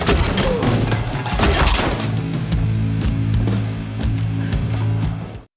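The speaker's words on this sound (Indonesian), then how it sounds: "dia berhasil masuk ke dalam gedung gubernur dan langsung menembak para pengawal Sandro." Gunfire in an action film as a gunman storms a governor's building and shoots the guards: dense, loud volleys of shots and thuds that thin into scattered cracks over a low rumble, then stop abruptly.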